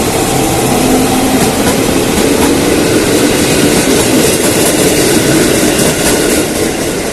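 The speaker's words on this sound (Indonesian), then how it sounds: "Ini kereta buatan Jepang ya" A Japanese-made commuter train runs on the red line of the Jabodetabek network toward Bogor, with loud, constant rumble and rail clatter heard from inside the car while someone talks over it.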